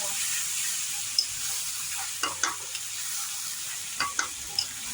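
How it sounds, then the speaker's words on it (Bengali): Rice being stirred and fried in ghee for basanti pulao, a steady soft sizzle with scattered scraping clicks of a spatula against the pan, close and moderately loud, no talking. "চালটাকে নেড়ে নিবি তো, একটু ভালো করে ভাজতে হবে।"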